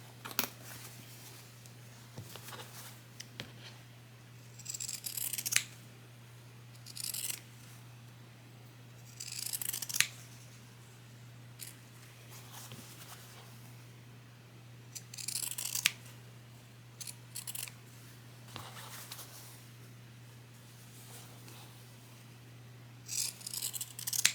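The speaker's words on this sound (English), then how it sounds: "Or you can do like I'm going to do and just use your Pecan shears." Pecan shears snip through fabric while an apron is being made. Crisp cutting bursts come in irregular clusters with quiet pauses between them, over a low steady hum and no speech.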